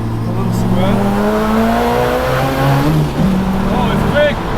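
A Mazda RX4 with a bridgeported big-turbo rotary engine revs hard and accelerates, its pitch climbing through several gear changes, loud and close, with voices talking over it.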